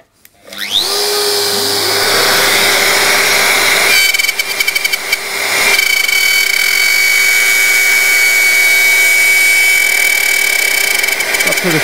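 A bandsaw runs loud and close, cutting through a log with a steady high whine and broadband roar that holds, dips briefly as the blade stutters, then resumes at full strength until the end.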